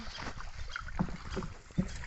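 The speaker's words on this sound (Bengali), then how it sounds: "এখন আমরা বাড়ির দিকে যাচ্ছি অনেক জোরে নৌকা ছুটাইতেছি" A small boat moving fast through water on the way home, a steady close wash of water and wind noise with faint splashes.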